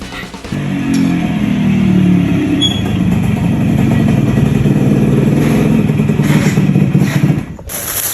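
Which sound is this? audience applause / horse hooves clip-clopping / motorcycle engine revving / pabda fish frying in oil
motorcycle engine revving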